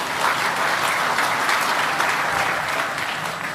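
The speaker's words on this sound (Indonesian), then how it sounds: "Tepuk tangan untuk beliau" Steady, dense applause from a large crowd for the President of Indonesia at a harvest event, continuous clapping at a strong level throughout with no voices standing out.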